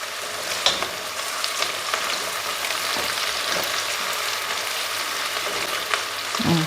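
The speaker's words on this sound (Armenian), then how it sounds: "հիմա թող տապակվի" Blue foot mushrooms fry in a pan with a steady close sizzle. Occasional stirring knocks and clicks sound over the hiss, with no talk.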